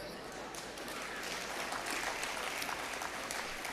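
An audience claps at a live comedy talk, a dense wash of applause that swells slightly midway and stays steady and moderately distant.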